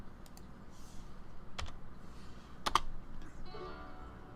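Keys on a computer keyboard are tapped while editing in Shotcut: a few sparse, close clicks and presses, one a quick double tap, over a quiet room hum.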